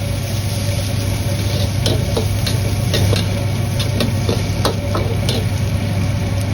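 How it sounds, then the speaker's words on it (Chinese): Chopped ginger and scallions are stir-fried with pork in a wok, giving a steady, loud sizzle punctuated by sharp spatula scrapes and clicks against the pan. "接着下入切好的姜葱，炒出香味"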